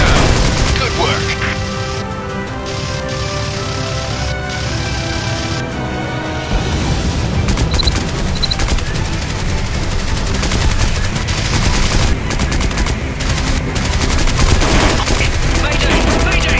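Rapid automatic gunfire from aircraft in a combat video game rattles in dense, continuous bursts, loud and close, with game voice lines spoken over the firing.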